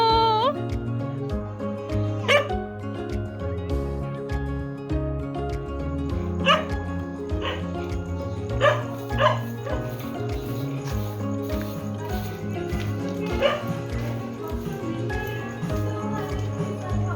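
A dog barks repeatedly in scattered sharp bursts, some in quick pairs, over a steady hum of background noise.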